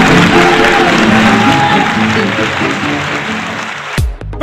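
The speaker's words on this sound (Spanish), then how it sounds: "les despedimos con un gran aplauso, por favor, a ellos" A studio audience applauds on an Ecuadorian TV program: loud, dense clapping with crowd noise and voices mixed in, fading slightly before cutting off abruptly near the end.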